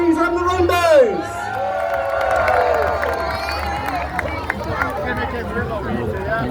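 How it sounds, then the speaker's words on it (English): A street crowd at a scouts and guides parade cheers and shouts, with high children's voices rising in a loud whoop at the start and continuing lively babble throughout. "Let's have another cheer for the guides, the brownies and the rainbows."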